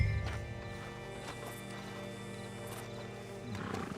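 Horse hooves clip-clop at a steady walking pace in Red Dead Redemption 2, running continuously at moderate loudness beneath a bed of sustained game music and ambience.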